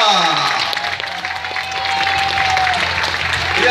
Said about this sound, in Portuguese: Aplausos para a criançada!